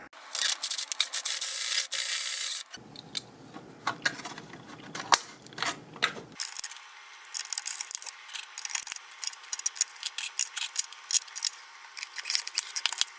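Plastic iCade arcade cabinet case being reworked so larger buttons fit, with bigger button holes bored out: a loud, steady grinding rasp, then a duller, lower scraping stretch, followed by rapid, uneven scratchy strokes.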